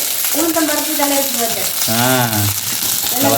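Onion, garlic and spices fry in oil for a fish curry, a loud constant sizzle right up close, with a voice speaking over the hiss throughout.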